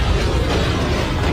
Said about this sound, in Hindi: किचन में धमाका हो गया।